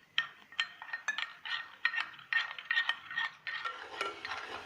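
A spoon clinks and scrapes against a cup while stirring about three tablespoons of cocoa powder into milk; quick, close, irregular metallic taps and swirls, with no talk.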